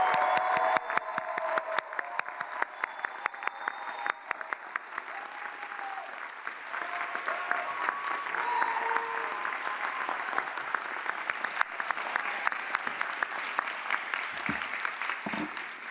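Sustained audience applause for physical therapy graduates at a college commencement ceremony, a steady wash of many hands clapping from a large crowd, even and continuous throughout.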